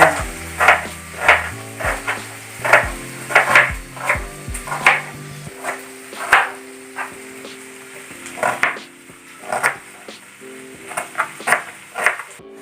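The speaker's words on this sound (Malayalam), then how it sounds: "നമുക്ക് നമ്മുടെ സവാള ഒന്ന് നന്നായി ചെറുതാക്കി അരിയാം" A knife chops onion finely on a board in a kitchen, producing a steady series of crisp, close taps, faster in bursts, while chicken fries nearby with a faint sizzle and low background hum.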